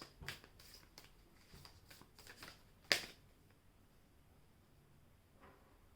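Quiet riffling and soft slaps of tarot cards being shuffled, a series of brief rustling bursts with one sharper snap midway.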